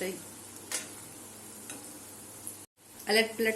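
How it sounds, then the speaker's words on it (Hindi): Rice kofte fry in hot oil in a kadhai, giving a soft steady sizzle with a few light taps from turning them, then a brighter, louder burst of crackling near the end. "कढ़ाई में तेल गरम हो गया है। हम ये कोफ्ते इसमें फ्राई कर लेंगे।"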